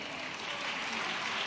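Thick, continuous clapping from a large audience of women at a women entrepreneurs' conference with the chief minister, steady and even throughout.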